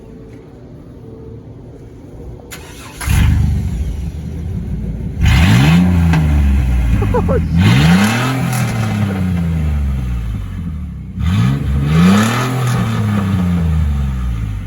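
A 1996 Chevy S10 engine with a Cherry Bomb glasspack muffler cranks, catches and idles, then revs up several times in loud, rising and falling blips. A short exclamation is heard over it.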